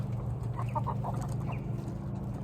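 Soft, low clucking from two older hens, a few short burbling calls close by under a steady background hum.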